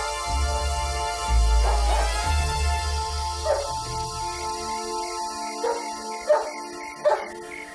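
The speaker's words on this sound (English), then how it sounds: "It's nobody, just a dog. What's he barking at, though?" A dog barks outdoors in a few separate bursts, fairly distant, set against a steady low hum and sustained musical tones.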